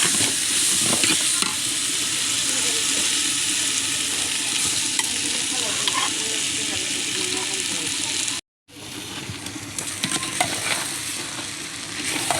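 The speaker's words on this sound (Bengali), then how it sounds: "সুন্দর করে নেড়ে চেড়ে নিচ্ছি আমরা।" Gourd pieces are stirred in a hot pan, the frying hiss constant and loud with scraping stirs throughout, broken by a brief silence before the sizzling resumes.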